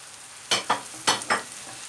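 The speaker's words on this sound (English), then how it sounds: "we just want to fry this in with our onions" Halloumi cheese frying with onions in a pan, stirred in four quick scraping strokes over a soft, steady sizzle, close and clear with no talk.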